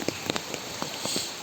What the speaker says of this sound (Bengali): অনেক বৃষ্টি হইতেছে, বৃষ্টি কোনো শেষ নেই।